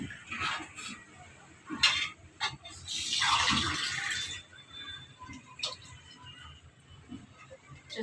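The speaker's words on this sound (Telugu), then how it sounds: "చూసారు కదా వాటర్ వేసాను" Water splashes into a metal cooking pot of rice for a couple of seconds, amid clinks of utensils and quiet kitchen sounds, fairly close by.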